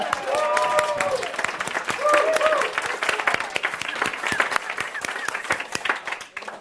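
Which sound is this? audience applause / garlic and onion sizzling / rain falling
audience applause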